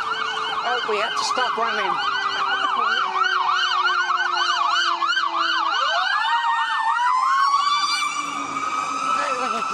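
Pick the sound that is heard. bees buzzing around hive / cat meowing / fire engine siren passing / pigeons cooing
fire engine siren passing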